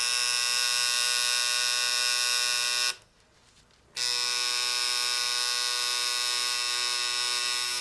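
A tattoo machine shading skin buzzes in a loud, steady electric whine, cuts out for about a second, then starts again and keeps buzzing evenly, close by with no talking.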